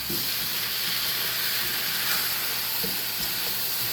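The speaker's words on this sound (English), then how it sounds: "we're gonna let these potatoes and onions cook together" Potatoes and onions cook together in a pan with a steady, even hissing sizzle, broad and unbroken throughout, with faint low knocks now and then underneath.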